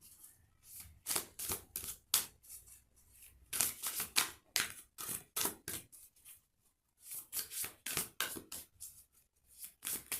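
A deck of playing cards is shuffled again and again, each riffle a crisp burst of rapid fluttering clicks, separated by brief pauses, close and fairly quiet.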